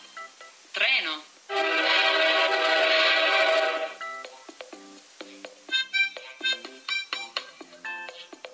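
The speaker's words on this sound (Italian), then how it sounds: "Treno." A train sound for children's vehicle learning, a loud whistle blast followed by a run of short rhythmic chuffs and clacks; a voice speaks briefly before the whistle.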